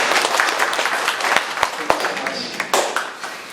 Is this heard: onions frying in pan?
no